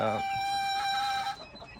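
A gamefowl rooster crows in one long, loud, drawn-out call close by, fading into quieter background noise at the end.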